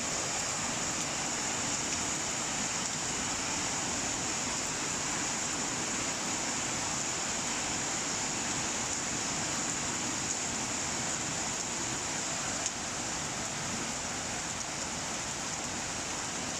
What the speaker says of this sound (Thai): ฝนตกแบบนี้ อากาศก็ดี